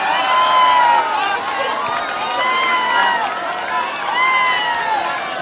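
A packed indoor crowd at an inter-town basketball game roars in steady, sustained protest over a foul call, with whistles and shouts layered throughout and a dense, continuous wash of voices.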